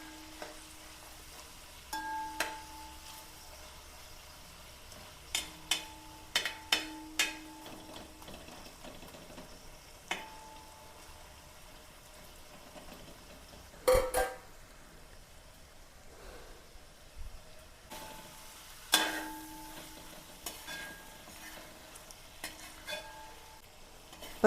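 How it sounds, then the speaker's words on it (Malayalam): Tiger prawns shallow frying in a pan for a biriyani, with a faint steady sizzle under repeated close scraping and clinking of a utensil as they are stirred and turned, and no talk. "നമ്മളിതൊരു ശാലോ ഫ്രൈ ആണ് ചെയ്യണത്"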